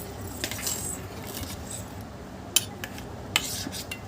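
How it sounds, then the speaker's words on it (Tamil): A spoon stirring omelette mixture for a village-style home recipe, soft scraping under faint background hiss, punctuated by a couple of sharp metallic clinks against the bowl, close up with no talk. "அப்படியே விட்டு கிண்டிக் கொள்வோம்."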